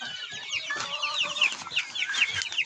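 Farmyard hens and a young rooster clucking busily, with overlapping chirpy calls and short squawks in quick, uneven succession, close and fairly loud.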